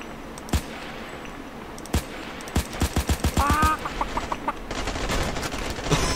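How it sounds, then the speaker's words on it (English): A chicken clucks in the shooter Ravenfield, a short burst of clucks amid sharp bursts of gunfire and a few single shots, all fairly loud and close. "Oh look, chicken."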